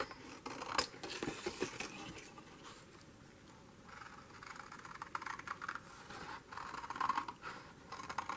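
Scissors cutting paper for journal pages, a quiet, continuous snipping and rustling close by with scattered small scratches and no voices.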